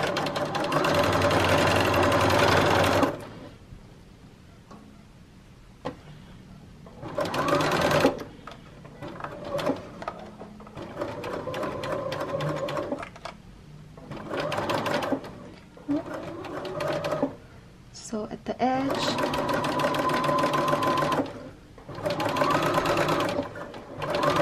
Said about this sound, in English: So I'm just sewing at the very edge right here.